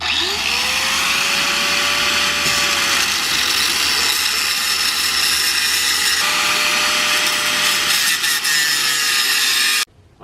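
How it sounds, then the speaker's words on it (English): A Dremel rotary tool cuts out a staked U-joint bearing cap on a Toyota RAV4, whining loudly and continuously at a steady pitch with slight dips as it bites, before stopping suddenly. "we can just pound those bearing caps inside, Dremel it out, and put our new U-joint in"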